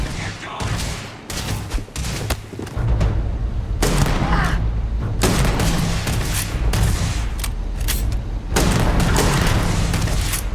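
Sustained bursts of gunfire in the space-combat game Starfield, loud and dense, with booming shots rolling in waves and brief lulls between volleys.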